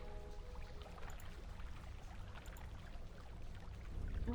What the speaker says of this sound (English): You hear a grinding noise beneath your feet and the rush of water